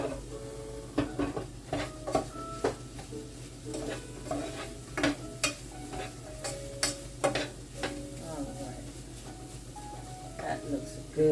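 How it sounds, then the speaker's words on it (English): White onion is stirred into a savory meat pie filling, giving a series of irregular scraping and clinking strokes of a spoon against the pot over a low background hum, with a voice talking at times. "Add some of the white onion in there. All right. Stir that in."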